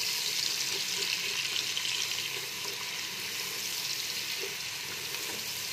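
Kebabs frying in a pan under a steady, even hiss of sizzling oil that holds at a moderate level for several seconds, with no talk.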